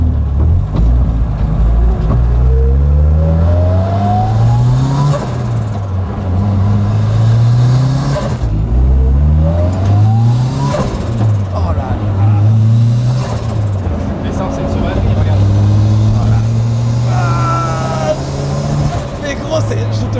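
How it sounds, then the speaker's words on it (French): A GT-R-styled car that is not a Nissan revs hard, its engine climbing and falling in about five rising sweeps, loud and close with a steady low rumble between pulls. "je te montre comment on démarre la voiture"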